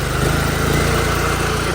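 Pressure washer engine running steadily at idle-to-rev, a loud, continuous mechanical drone with a low pulsing firing rhythm throughout, no voices over it.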